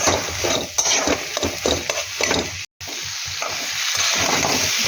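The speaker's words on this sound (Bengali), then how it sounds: "লঙ্কাটা খুব ভালো করে কষাতে হবে" Green chilli, ginger paste and cumin paste sauté with green peas in a pan, making a loud, steady sizzle with scraping stirs and a brief moment of silence partway through.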